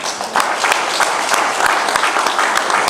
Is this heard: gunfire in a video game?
no